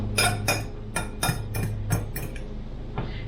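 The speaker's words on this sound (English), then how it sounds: "I'm just gonna give this a quick stir." A quick stir of egg and shredded cheese chaffle batter, a utensil clinking against the bowl in about eight sharp, evenly spaced taps, close and alone.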